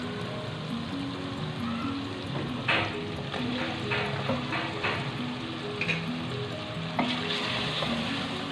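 Potatoes and beef mince sizzle and fry steadily in a pan, a close continuous crackle with a few sharp clinks of stirring.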